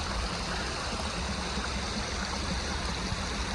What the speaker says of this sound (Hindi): जगह जगह छोटी छोटी स्ट्रीम्स बह रही हैं